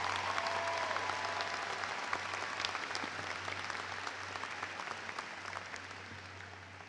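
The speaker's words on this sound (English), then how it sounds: "Let's give Lauren Valley a round of applause." Sustained applause from a large crowd at a university commencement ceremony, steady dense clapping filling the whole stretch, gradually easing slightly toward the end.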